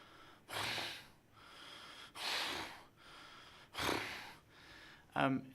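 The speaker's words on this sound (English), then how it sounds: "It sounds like the rock is breathing, and it is alive" Slow, heavy breaths from a large living rock creature, three long rasping exhales spaced a couple of seconds apart, ending with a short, sharp snort.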